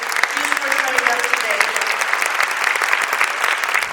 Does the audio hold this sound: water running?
no